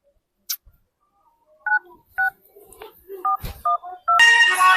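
Phone number dialed on a telephone keypad: a string of short, evenly spaced DTMF key tones, fairly close and clear, ending in a louder burst of ringing or line tone.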